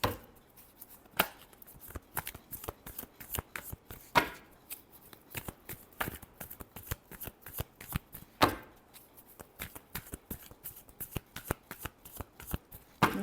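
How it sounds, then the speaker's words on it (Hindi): A deck of tarot cards is shuffled continuously, with rapid, close riffling slaps and clicks repeating in an uneven rhythm throughout and no voices. "last shuffle"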